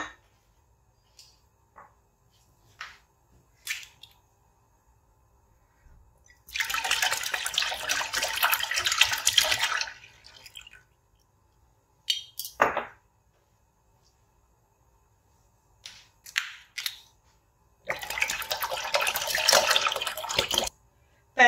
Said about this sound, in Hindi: तो हम इसमें दूध डालेंगे।